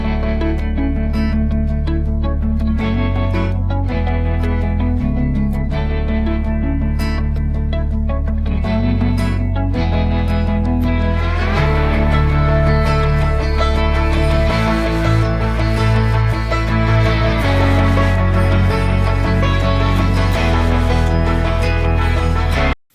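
A loud, dense music track plays continuously with sustained bass and layered melodic parts, its drums digitally extracted so it carries no clear percussion beat.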